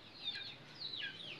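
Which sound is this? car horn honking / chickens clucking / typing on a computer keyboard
chickens clucking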